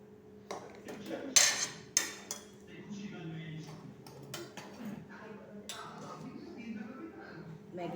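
Aloo tikkas and Maggi noodles being arranged on a plate, with sharp clinks and clatters of utensils against dishware in bursts, then softer handling noises, a faint voice occasionally in the background.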